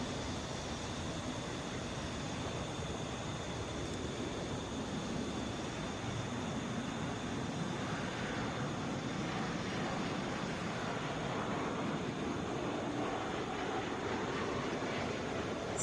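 Steady broadband roar of an Airbus A320 airliner at Atlanta airport, a continuous engine rumble and hiss holding evenly throughout with no voices.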